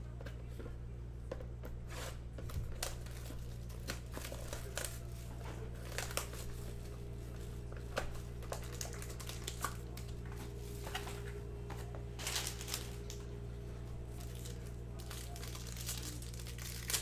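Panini Obsidian soccer card packs are torn open with close crinkling, crackling wrapper sounds and scattered sharp rips across a steady low hum, with no talking.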